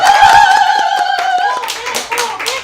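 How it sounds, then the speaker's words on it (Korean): During a street game event in Daegu, an outdoor crowd claps to welcome a challenger, giving a loose run of sharp hand claps under someone speaking through a microphone, with music or a sustained tone playing in the first half. "모셔보도록 할게요. 박수 부탁드립니다."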